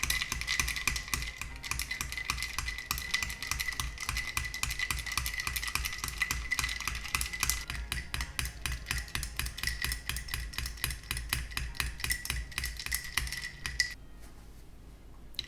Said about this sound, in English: I put the ice in first, then use the stirring rod to mix the contents